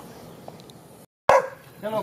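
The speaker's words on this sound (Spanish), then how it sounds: "acabamos de llegar al ordeño y los perros nos reciben ladrando" Farm dogs bark at a rural cow-milking yard, with one sharp close bark after a brief gap, set against a speaking voice and outdoor background noise.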